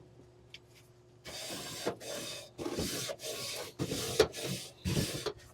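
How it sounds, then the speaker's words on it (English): A stiff wire brush scrapes back and forth across the metal grate of a hot Masterbuilt grill in about six rough, rhythmic strokes, close and clear. "give the grill a quick brush"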